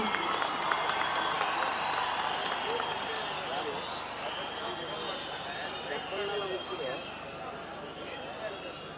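A large crowd at the Yuva Dasara festival stage in Mysuru claps and cheers to welcome Ashwini Puneeth Rajkumar, a broad, somewhat distant wash of applause with an amplified voice speaking over it.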